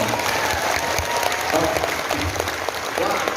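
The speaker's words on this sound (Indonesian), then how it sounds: "Tepuk tangan untuk BMI Hongkong." An audience claps and cheers continuously and loudly for migrant workers at a religious gathering in Hong Kong, a dense sustained wash of applause from a large crowd.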